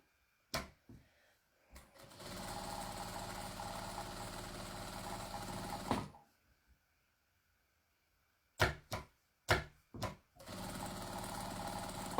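Sewing machine stitching fabric strips around the edges of a jelly roll rug, running in two long steady buzzing stretches, broken by short clicks and knocks as the fabric is repositioned.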